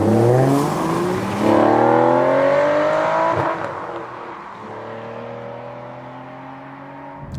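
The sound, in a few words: Bond car engine revving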